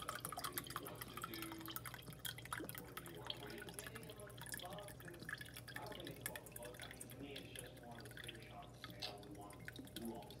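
Fish sauce poured into a measuring cup in a home kitchen while preparing bun cha, a soft dribbling trickle of liquid running steadily under faint background talk.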